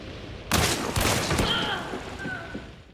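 A Nagant Officer Carbine Deadeye fires a rapid stream of loud, close shots in a video game, the blasts blurring into a continuous volley before a fading echo and a faint ringing tone.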